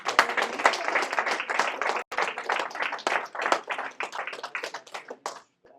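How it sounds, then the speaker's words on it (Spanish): A church congregation applauds together, dense rapid hand clapping that carries on for several seconds, dips briefly, then fades and stops abruptly. "Un aplauso a Cristo."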